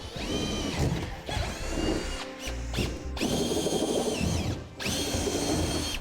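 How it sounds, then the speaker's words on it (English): A power drill with a step bit whines and grinds through the metal frame of a 2004 Chevrolet Silverado in long continuous runs, briefly pausing and restarting, loud and close. "To drill it out, we're going to use the step bit process, starting with a smaller pilot bit."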